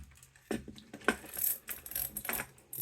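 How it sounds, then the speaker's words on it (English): Small metal nut being loosened and removed from the switch housing of a dead ceiling fan, giving several close, sharp ratcheting clicks and metallic taps in quick irregular bursts with no talking. "we need to take this little nut off here that holds the switch in there"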